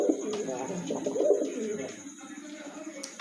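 A young pigeon, nearly two months old, coos in soft, low repeated calls up close, with someone talking over and around them.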